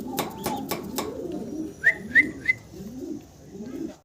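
Fancy pigeons cooing close by in rolling, repeated throaty calls, accompanied by a few sharp bright chirps and some tapping noises, with no speech.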